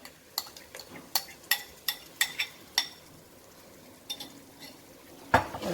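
Spoon scraping and clinking against a pan while yogurt is stirred into cooking masala for mutton rogan josh, a run of quick rhythmic knocks, a pause, then a few more and one sharper clank, close and fairly quiet.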